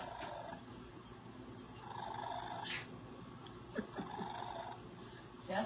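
A cat at an animal shelter gives a few soft, brief chirps scattered over a quiet, murmuring room background, faint and close.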